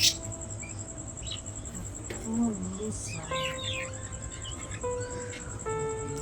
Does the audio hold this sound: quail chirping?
yes